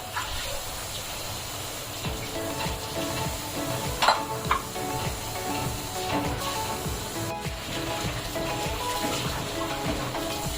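Eggplant sizzling and frying in a pan of traditional Maharashtrian mixed vegetable bhaji on low gas, with a steady crackle, occasional stirring scrapes and a few louder sputters.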